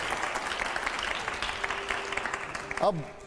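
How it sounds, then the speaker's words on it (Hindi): A studio audience applauds on a television talk show, with quick clapping running under a host's voice, then a short tonal flourish near the end. "तालियां जोरदार."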